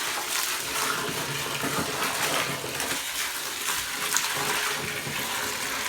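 Water pours steadily into a bucket holding a full scoop of grain animal feed, wetting it down at a feeding area with a floor drain; a continuous close splashing rush with no talking.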